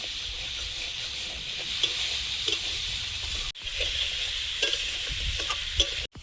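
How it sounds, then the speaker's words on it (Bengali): Prawns fry in hot oil, giving a close, continuous sizzle with spatula scraping and stirring throughout, broken by two abrupt cuts. "চিংড়িটা 1 মিনিট মতো ভেজে নেব"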